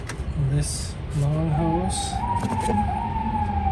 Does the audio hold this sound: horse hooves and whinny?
no